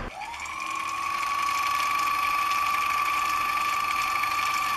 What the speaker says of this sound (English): I'm not going to wind this full bobbin, this was just for a demonstration